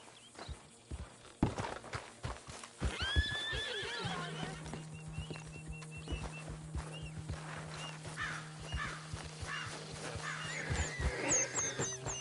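A horse in Red Dead Redemption 2 whinnies in a few rising calls over steady clip-clop hoofbeats and footsteps, with a long low tone running through the middle, all fairly quiet and distant.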